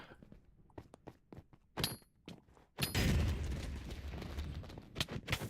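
Explosions in the Minecraft server CraftersMC, a burst of sharp, clattering blasts followed by a sustained rumbling roar with repeated crackling hits, preceded by scattered clicks and thuds.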